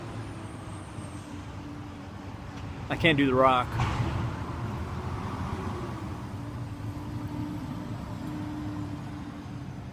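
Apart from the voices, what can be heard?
truck passing by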